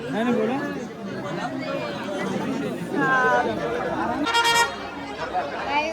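Busy crowd chatter at Ekvira temple on a Sunday, a dense hubbub of many voices close around, with a brief car horn toot partway through.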